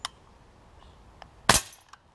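Airsoft Beretta 92 Elite 2 Umarex pistol shot striking a target: one loud sharp crack with a brief rattling tail, preceded by faint small clicks and taps in an otherwise quiet space.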